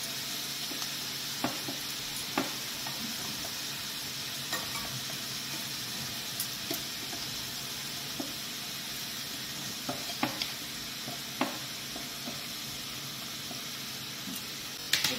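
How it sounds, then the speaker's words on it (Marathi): Onion sizzles in a pan while being stirred for veg and chicken momos, a steady close frying crackle broken by regular spoon scrapes and taps, with no talking. "कांदा शिजतोय"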